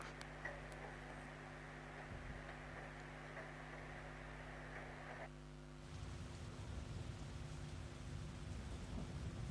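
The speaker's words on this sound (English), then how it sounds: "You can hear it raining outside." Steady rain patters throughout in the video game Persona 4, with low rumbling of thunder swelling in the background and growing heavier toward the end.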